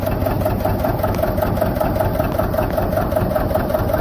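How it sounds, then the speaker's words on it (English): Steady, rumbling diesel engine of a John Deere 730 tractor idling nearby, a constant low chug with a faint high whine, no talking. "She's a nice tractor though."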